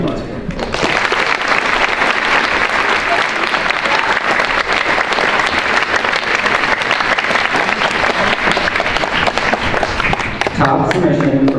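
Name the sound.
audience applause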